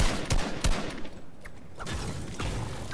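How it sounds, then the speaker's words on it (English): Sniper rifle gunfire in Fortnite sounds as a few sharp, heavy shots in quick succession, followed by a dense rumbling wash of game noise and more scattered reports. "He's sniping."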